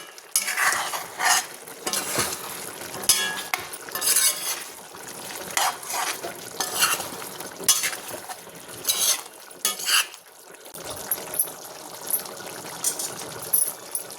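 Chicken with garlic sizzles in a pan as a spoon scrapes and stirs it repeatedly, bursts of frying hiss rising and falling with each stroke, close and fairly loud.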